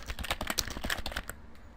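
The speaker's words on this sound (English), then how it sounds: "I am just going to type in my YouTube name" Typing on a computer keyboard while entering a site title in WordPress: a rapid, continuous run of close, crisp key clicks with no speech.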